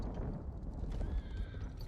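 A horse in the video game Ghost of Tsushima whinnies loudly and close, with clip-clopping hooves underneath throughout the short stretch and no talk over it.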